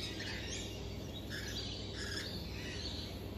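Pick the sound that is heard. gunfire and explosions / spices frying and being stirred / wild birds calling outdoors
wild birds calling outdoors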